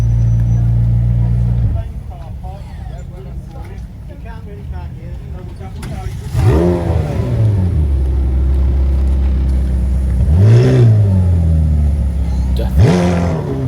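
A sports car engine revs hard several times through four exhausts at a Chester cars and coffee meet, each rising roar dropping back to a deep burbling idle, loud and close with crowd murmur underneath.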